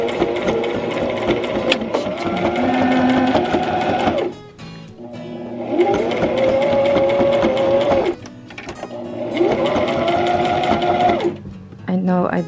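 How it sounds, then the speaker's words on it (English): Sewing machine stitching around a circle of fabric for a taro boba costume: three steady whirring runs of rapid stitching, each a few seconds long, separated by short pauses, close and loud. "And then now I'm going to sew around the circle."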